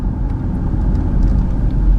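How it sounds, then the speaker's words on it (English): Steady low rumble of road traffic in a rural Oklahoma town, a car engine droning close by with no voices, continuous throughout. "We got some traffic here."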